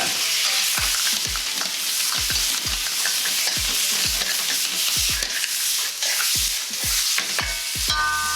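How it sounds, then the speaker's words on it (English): Ingredients for clam and chicken soup fry in a pan, producing steady loud sizzling throughout, punctuated by repeated sharp clacks of a utensil stirring and scraping. "Give it a little bit of fry."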